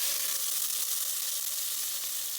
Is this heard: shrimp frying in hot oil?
yes